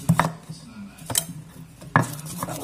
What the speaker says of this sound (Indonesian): Sekarang kita ulek dulu.